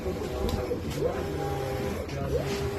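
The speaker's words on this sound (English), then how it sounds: "That UV printer working and printing some" A UV printer in a woodworking shop runs and prints, giving off a repeating mechanical whir with rising and falling motor sweeps and steady hum, while a person talks over it.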